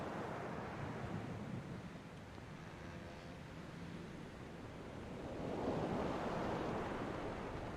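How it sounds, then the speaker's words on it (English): Ocean waves surging around a sailing ship in The Pale Beyond video game, a soft continuous wash of surf and wind that swells louder toward the end, with no voices. "We feel the weight of the waves in our arms."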